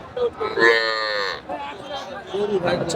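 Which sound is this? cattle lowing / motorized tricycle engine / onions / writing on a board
cattle lowing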